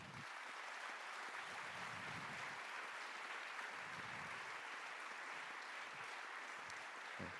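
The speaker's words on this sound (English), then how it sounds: "je vous propose de l'applaudir" A lecture audience gathered to welcome Yuval Harari gives a steady, faint round of applause, a dense wash of many hands clapping at a distance that holds evenly throughout without speech.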